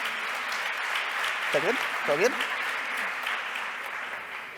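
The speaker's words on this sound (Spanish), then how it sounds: "Pues un aplauso para toda esta gente, ya que estamos." An audience claps for the panel members at a round-table discussion on how young people manage culture, a steady wash of applause with people speaking briefly over it.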